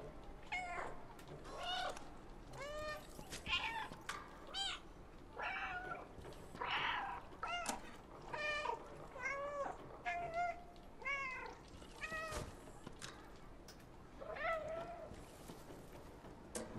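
Repeated cat meows from the video game Stray, some drawn out, fill the stretch in a steady rhythm against faint background noise, with occasional brief speech-like sounds mixed in.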